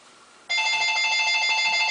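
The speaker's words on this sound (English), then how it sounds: "sorry, the phone's ringing." A telephone rings once in a room, starting suddenly with a bright, steady electronic trill that stays loud and close until it cuts off.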